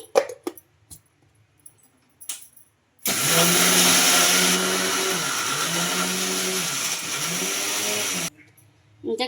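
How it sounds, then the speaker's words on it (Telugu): A mixer grinder coarsely grinds moong dal in a loud, steady whirring burst of about five seconds that starts abruptly and stops sharply, with quiet handling noises before and after. "ఇది అంత స్మూత్గా గ్రైండ్ చేయకూడదు పలుకు పలుకుగానే ఉండాలి"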